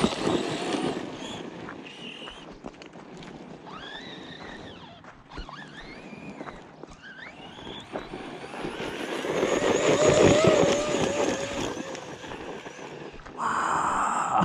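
A Kaiju EXT radio-controlled car running on a LiPo battery pack, its electric motor whining and surging in rising and falling sweeps as it rips around, with outdoor wind noise behind.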